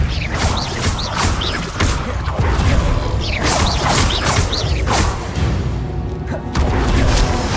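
Repeated whooshing bursts and heavy impacts from spellcasting such as Depulso in Hogwarts Legacy, loud and close, with booming crashes and mechanical clatter filling the scene.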